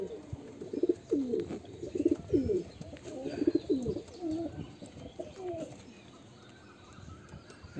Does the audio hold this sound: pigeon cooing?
yes